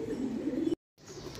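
Rajasthani pigeons coo in low, throaty rolling calls, fairly close and loud, then a brief cut of silence before softer cooing resumes.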